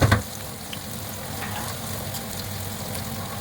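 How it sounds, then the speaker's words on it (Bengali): Boiled giant taro drops into hot oil tempered with black cumin seeds, setting off a steady, close, even sizzle that continues throughout with no talking. "সেদ্ধ করে রাখা মানকচুটা দিয়ে দিলাম"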